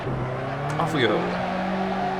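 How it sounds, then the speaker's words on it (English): A car in Assetto Corsa spins its wheels on a low-grip track, its engine droning steadily while a short tire squeal cuts in near the middle. "Wow, a lot of wheel spin."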